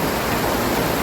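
Cold, clear water from the Tiwi mountains flowing in a stream, a dense, steady rushing wash heard up close, with no voices.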